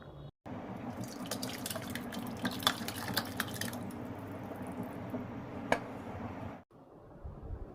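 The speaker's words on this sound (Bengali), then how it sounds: "ওটাতে এবারে এটা ঢালবো পাট শাকটা।" Cooked jute leaves are poured into a small pot, making a steady wet splashing and dripping that runs for several seconds before stopping abruptly.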